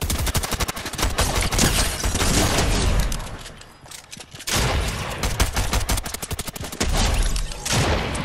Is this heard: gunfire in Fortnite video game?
yes